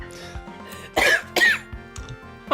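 Two harsh, close coughs burst out in quick succession over a quiet background, with faint rhythmic tapping underneath.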